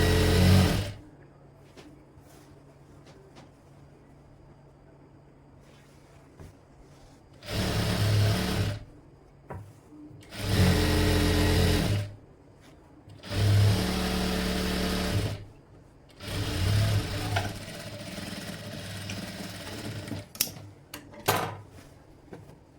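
A sewing machine stitches long frock fabric in four or five separate loud runs of rapid mechanical chatter, with quiet handling pauses between the bursts.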